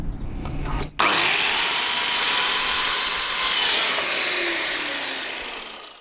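A power saw cuts through wood for workshop shelves: a brief knock, then a loud, sustained high whine as the blade bites in, slowly fading as the cut finishes.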